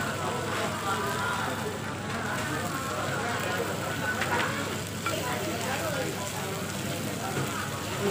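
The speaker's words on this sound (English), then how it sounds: "Mix na natin para maluto yung beef." Beef frying and being stirred in a hot pan at a Pepper Lunch restaurant, with a steady, dense sizzle and light scraping running throughout and voices talking over it.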